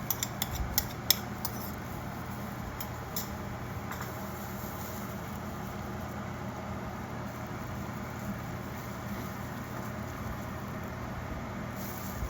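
Stirring a kangkong and tofu stir fry with oyster sauce mixture in a pan: a few quick utensil clinks at the start, then a steady, soft cooking hiss.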